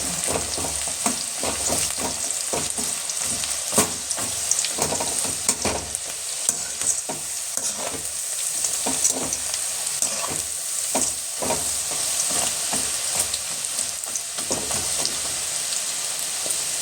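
Wheat flour pakoda deep-frying in hot oil: a continuous, dense crackling sizzle full of rapid pops and bubbling, close and unbroken, with no one talking.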